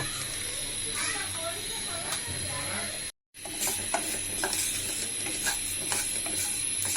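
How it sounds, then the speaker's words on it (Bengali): Panch phoron five-spice fries in a hot dry frying pan, giving a steady close sizzle and hiss with faint popping and a brief dropout midway. "এমনটি যখন একটু ফোটা শব্দ হবে তখন আমার পাঁচফোড়ন ভাজা হয়ে গেছে"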